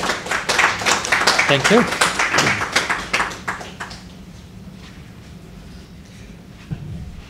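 A lecture audience claps after a distinguished lecture, a modest round of distinct hand claps for about four seconds, with a voice speaking briefly over it before the room falls quiet.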